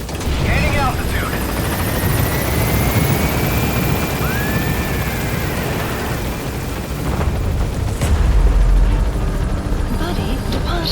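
Pequod helicopter lifting off in Metal Gear Solid 5, a loud close rotor roar with whirring engine whine that swells briefly near the end, with rumbling booms under it.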